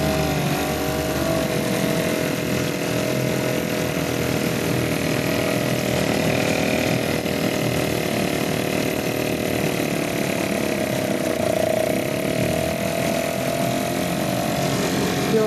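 A Yamaha/Suzuki 2.5 hp outboard engine idles steadily with a buzzing, even drone that stays loud and close without variation for the whole stretch, with no talk.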